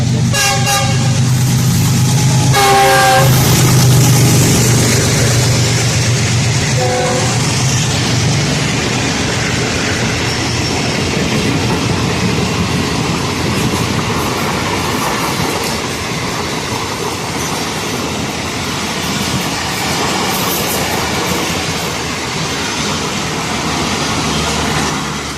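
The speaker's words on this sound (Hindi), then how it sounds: "ट्रेन आ रही है, देख लें" A train runs through Raymond station on the middle track without braking, its horn blaring several long tones at the start before a loud, continuous roar and rhythmic clatter of wagons rolling past close by.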